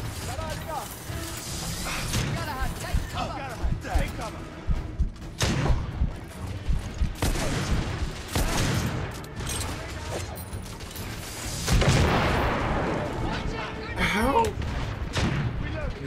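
Gunfire from a firefight in the video game The Order: 1886, with sharp shots and crashes scattered among game effects, under steady talk throughout.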